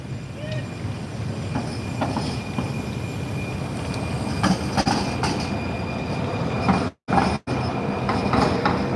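A light rail train runs steadily, with a continuous close rumble of wheels on track, faint squealing and occasional clatter, and a few brief dropouts near the end.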